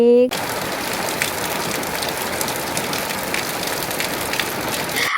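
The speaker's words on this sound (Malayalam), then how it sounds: "പുറത്ത് നല്ല മഴ പെയ്തുകൊണ്ടിരിക്കുകയാണ്" Heavy rain pours outside in a steady, unbroken roar after a brief tone at the start.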